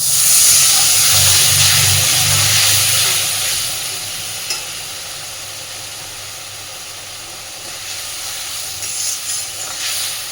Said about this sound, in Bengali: মশলাটা যাতে পুড়ে না যায়, অল্প একটু জল দিয়ে মশলাটা কষে নেব